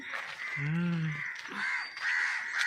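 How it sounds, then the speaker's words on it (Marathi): A crow caws loudly nearby in the early morning before full light, a harsh repeated call standing out over fainter chirping and twittering of other birds in the background. "मस्त सकाळ सकाळी छान वाटतं पक्ष्यांचा आवाज"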